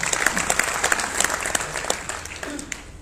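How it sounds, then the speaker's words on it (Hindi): At a Hindi comedy poetry gathering the audience bursts into loud, close applause, crisp separate claps over a dense wash of clapping that carries on throughout. "आप लोग एक बार तालियां बजाइए"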